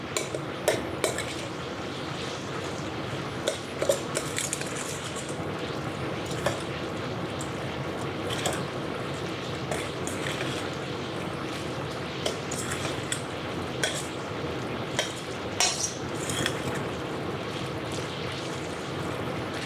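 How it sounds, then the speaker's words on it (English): Mexican street corn with lime juice is stirred in a pan beside a Yoder YS640S pellet smoker, producing steady scraping and metallic clinks of a utensil against the pan over a constant outdoor background hum. "Now we're going to give it a good stir and we'll be done."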